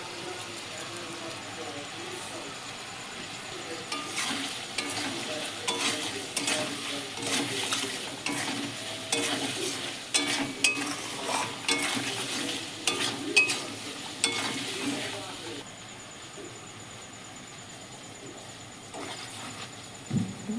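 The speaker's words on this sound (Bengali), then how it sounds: "বারবার নাড়তে হবে যাতে বসে না যায়" Amla pickle being stirred in a pan with a spice mix, giving repeated scraping strokes over a steady bubbling sizzle at moderate, close volume throughout.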